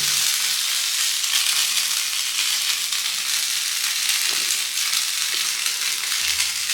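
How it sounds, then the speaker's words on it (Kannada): Pathrode, a Malnad-style dish made with colocasia leaves, frying on a griddle greased with coconut oil, with a loud, continuous sizzle and faint occasional scraping, with no talking. "ನೋಡಿ ಹೇಗೆ ಪತ್ರೊಡೆ ಫ್ರೈ ಆಗ್ತಾ ಇದೆ ಅಂತ."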